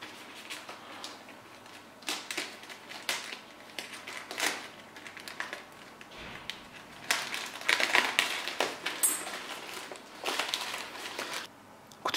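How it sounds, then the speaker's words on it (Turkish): Box of a JJRC JJPRO 130 mm quadcopter racing drone being opened, with repeated close crinkling, tapping and crushing sounds of cardboard and packaging, louder bursts near the end, no talking. "Şimdi kutumuzu açalım."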